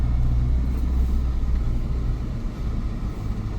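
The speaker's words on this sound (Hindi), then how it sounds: "हल्का सा एक्सेलेटर ले लो, चढ़ाई है, जाओ बढ़ाओ स्पीड थोड़ी सी" Car climbing a slope in first gear on half clutch through narrow lanes, a steady low engine rumble from inside the cabin that eases slightly toward the end, no talk.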